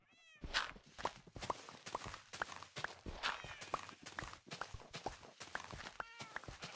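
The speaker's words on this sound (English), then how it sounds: "Man, the cats in the cat cafe are going crazy." Several cats in a Minecraft cat cafe meow repeatedly in overlapping cries over a steady patter of blocky footsteps, busy and fairly close.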